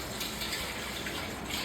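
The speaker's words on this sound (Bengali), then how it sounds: "খাওয়ার জল তো ধরে দিই" Drinking water runs from a tap into a container in a home kitchen, a steady, even gush of flowing water close by.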